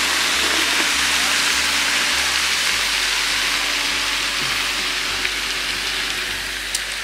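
A water fountain at Phra Ruang hot springs splashes steadily, a constant close hiss of falling water that stays even throughout, with a low hum underneath.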